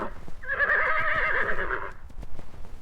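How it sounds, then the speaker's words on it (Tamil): A horse gives a single loud, clear whinny of about a second and a half, wavering in pitch before trailing off, with faint clopping or knocking sounds around it. "குதிரைகள் மிகுந்த வலிமையும் நம்பிக்கையும் கொண்டவை, நீண்ட தூரம் சோர்வின்றி ஓடும் ஆற்றல் பெற்றவை."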